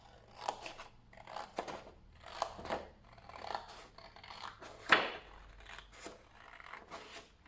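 Scissors cut through cardboard for a homemade advent calendar, making a series of close, crisp snipping and crunching bursts in an irregular rhythm, with quiet pauses between cuts.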